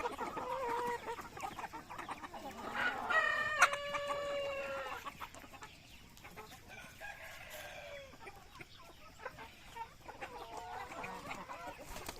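Native chickens and roosters cluck and crow outdoors on a rural farm, one rooster giving a clear crow among scattered clucks and calls, moderately near over low background noise.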